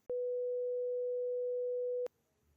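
A steady synthesized sine-type tone holds at one even pitch for about two seconds, switching on and off abruptly, loud and alone against silence.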